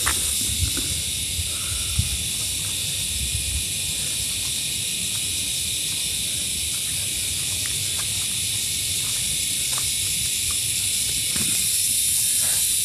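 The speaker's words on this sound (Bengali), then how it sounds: "দেখো, ঝিঝি ডাকছে" Crickets chirping in a green hillside forest near a Kalimpong village, a dense steady high-pitched drone that continues unbroken under faint low rustling.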